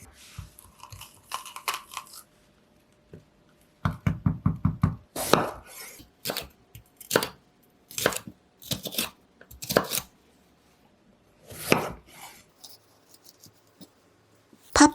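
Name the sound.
chopping paprika with a knife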